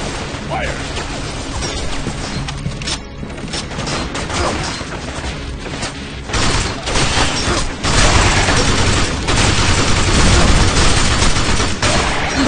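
Gunfire rips through a firefight in the video game Binary Domain, loud and nearly continuous with crashing impacts and bursts that build heavier toward the end, while voices shout over the shooting.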